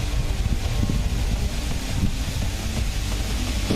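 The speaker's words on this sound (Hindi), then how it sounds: "यहां पर तूफान के आने से पहले ही तेज हवाओं के साथ साथ जोरदार बारिश शुरू हो गई है।" Wind roars against the microphone with a dense, steady wash of heavy rain ahead of Cyclone Tauktae in Gujarat, India, continuous and loud throughout.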